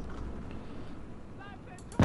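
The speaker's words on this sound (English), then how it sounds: "Okay, that was a piece of heavy artillery." Heavy artillery in the Operation Zitadelle war game fires once with a sharp, loud boom near the end, after a low rumbling background and a brief faint tone.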